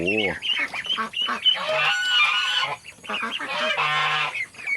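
Loud, continuous honking and quacking from a crowd of over twenty ducks and ducklings nearby, with overlapping calls and a few brief higher peeps mixed in.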